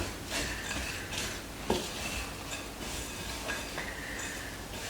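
A spoon stirring a granola mixture in a bowl, with soft scraping and light clinks repeating at an uneven pace, quiet and close with no talking.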